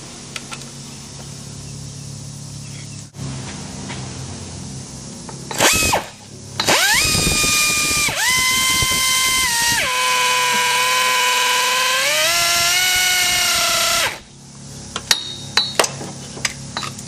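An air tool runs Torx screws into a Ford Explorer propeller shaft joint. A short burst is followed by a long, loud whirring run whose pitch steps down as the screws tighten, then a few faint clicks.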